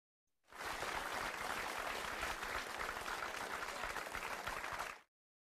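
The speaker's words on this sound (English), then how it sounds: "Let's give Ma'am Ana Lea Dipatuan a warm of applause" Sustained applause from an audience at a completion ceremony, steady and dense for about four and a half seconds, then stopping abruptly, with no voices over it.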